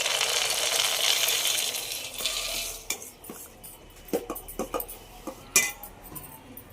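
Peanuts poured into a pan with the stove switched off for a healthy kids' snack, a broad rattling pour followed by sparse clinks and scrapes of stirring, close and fairly quiet with no talk.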